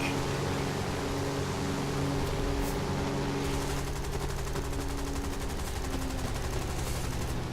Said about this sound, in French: Le véhicule blindé qui n'a pas aimé que je tire dessus, alors il réplique.